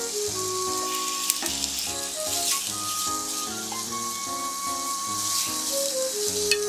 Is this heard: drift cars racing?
no